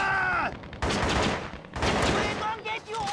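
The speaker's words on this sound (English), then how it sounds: "The AK is burst fire." An AK rifle firing in bursts in the Vietnam War shooter Shellshock: Nam '67 on PS2, with loud, close gunfire and battle noise arriving in two dense clusters and short gaps between them.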